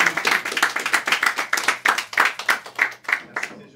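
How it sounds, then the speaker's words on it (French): A small group claps for a speaker at an evening gathering in Paris, a close, sparse run of distinct hand claps with an uneven rhythm that gradually tapers off. "On peut t'applaudir."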